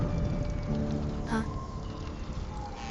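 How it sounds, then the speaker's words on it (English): Steady rain falls on a dark street at night, a dense even hiss of drops heard close and continuous with no voices over it. "Rain covered the dark street outside."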